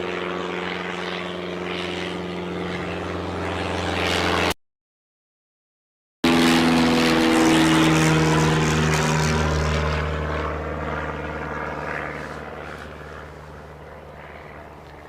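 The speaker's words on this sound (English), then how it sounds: "So it's actually reminding me that aircraft takeoff." An aircraft takes off at Newcastle Airport, a loud, sustained engine roar with a rising, sweeping whine that swells and then slowly fades as the plane climbs away; a brief gap of silence breaks the sound early on.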